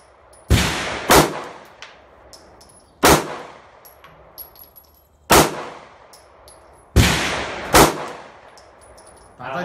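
SIG Sauer P226 MK25 pistol fired outdoors at an iron pole, four well-spaced pairs of loud sharp shots, each followed by a ringing metallic clang and a decaying echo.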